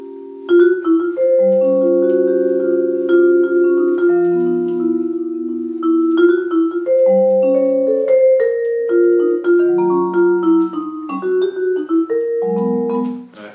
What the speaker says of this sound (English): It's a minor triad with a 6th note.